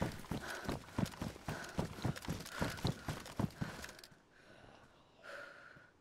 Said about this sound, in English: I heard footsteps inside there then.